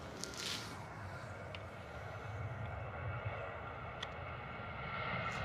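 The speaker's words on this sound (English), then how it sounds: "Next departure is an actual Ryanair liveried Boeing 737 to Cologne." A Ryanair-liveried Boeing 737 departs London Stansted for Cologne, its engines a steady, broad roar that holds level throughout at some distance, with no talking.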